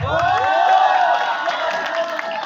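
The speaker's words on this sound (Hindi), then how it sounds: "और तेज ताली बजेगी" Audience in a college hall breaking into loud, sustained applause mixed with cheering and a few whoops, steady for the whole stretch, with a brief low rumble at the start.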